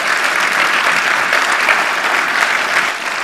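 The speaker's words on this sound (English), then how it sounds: "Let's hear it for Dr. Opp." Applause from an event audience honouring a marketing award finalist, dense steady clapping filling the room throughout without any talk.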